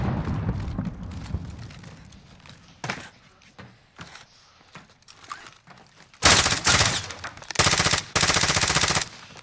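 Bursts of automatic gunfire in Call of Duty: Modern Warfare, sporadic single shots early on, then long loud rapid strings of fire, with quiet gaps between.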